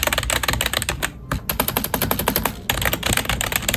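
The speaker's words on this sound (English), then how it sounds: "Let me do some keyboard ASMR for you guys." Fast typing on a computer keyboard in a gaming setup clatters up close with dense, loud keystrokes, one short pause midway, no talk.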